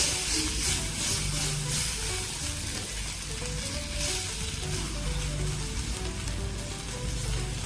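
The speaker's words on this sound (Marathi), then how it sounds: "आता आपण यामध्ये अर्धा चमचा जिंजर गार्लिक पेस्ट टाकणार आहोत आणि तीही छान प्रकारे फ्राय करून घेणार आहोत" Ginger garlic paste frying in a pan for mixed pasta, a continuous close sizzle and hiss with occasional faint stirring, steady in level throughout.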